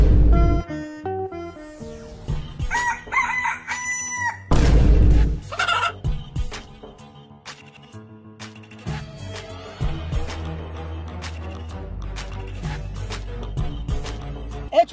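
A rooster crows loudly a few times amid clucking and other busy, tonal background sounds.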